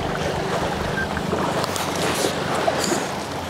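A motorboat crossing choppy waves on Panguil Bay in the Philippines, heard as steady engine rumble mixed with rushing water and strong wind buffeting the microphone throughout.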